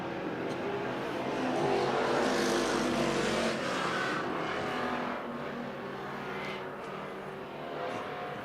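IMCA stock cars race through turns 3 and 4 at USA Raceway, a loud, continuous engine roar that swells as the pack passes, then settles into a steady, slightly more distant drone with no talk.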